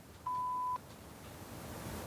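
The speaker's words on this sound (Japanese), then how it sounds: "発信音の後にあなたのメッセージをお願いいたします。" A single steady electronic beep from a home answering machine, sounding once for about half a second over a faint background hiss, then fading to quiet room tone.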